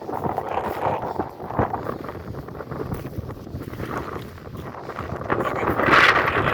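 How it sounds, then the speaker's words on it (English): Strong wind buffets the microphone beside a mountain lake, Lake of the Falls, making a steady roaring rumble that swells and gusts louder toward the end. No voices are heard. "I don't know if you can hear me, it's windy"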